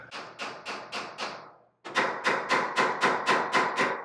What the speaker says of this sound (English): It's going to tap all this stuff with a hammer.